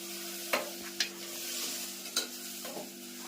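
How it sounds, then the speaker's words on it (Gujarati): Bottle gourd, chana dal and tomato sizzle softly in a pan tempered with mustard seeds, cumin and fenugreek powder, with a few sharp spoon scrapes against the pan over a steady low hum, no talking. "મસ્ત મજાનો વઘાર થઈ ગયો છે."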